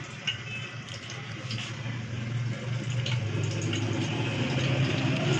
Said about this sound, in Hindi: सबसे पहले हम ना थोड़ा सा पानी डाल देंगे, सब्ज़ी को अच्छी तरह धो लेंगे इनको पानी डाल के